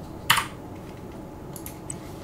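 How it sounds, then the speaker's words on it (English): A few sparse keystrokes on a PC computer keyboard, one sharp tap followed by several fainter clicks spread out over a couple of seconds in a quiet room. "Let's just type something."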